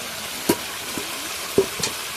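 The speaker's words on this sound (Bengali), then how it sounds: "তরকারিটা ফুটছে তরকারি ফুটছে" Curry bubbling in a pot with a steady low simmering hiss, broken by a few short clinks or stirs, with no talking.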